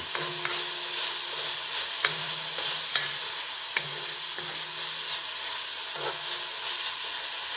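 Chicken fried rice with ginger sizzles in a wok while being stirred, a constant hiss of frying broken by repeated scraping and tossing strokes at a steady rhythm.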